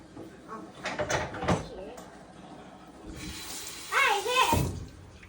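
Kitchen items are dropped into water at a sink, giving two bursts of splashing and running water, close and moderately loud, with someone talking between and over them.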